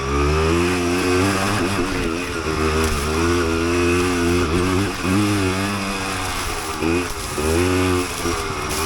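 A 1988 Yamaha DT200 two-stroke dirt bike rides a stretch of single track, its engine loud and close, revving and dropping through the gears in a steady, buzzing rasp with no let-up.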